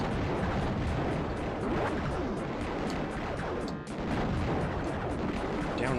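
Heavy gunfire from the shooter game Raptor: Call of the Shadows, a dense continuous roar of big bullets and blasts that stays loud throughout with a brief dip midway.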